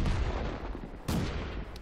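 A tank gun fires once in World of Tanks, from the French AMX 105 AM mle 47 self-propelled artillery on the Ensk map: a sharp, loud blast midway through, over a steady engine rumble.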